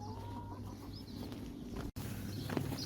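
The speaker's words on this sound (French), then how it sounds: "Les poules picorent le bitume ici." Soft clucking from a few hens, close by, over a low outdoor rumble with no talking.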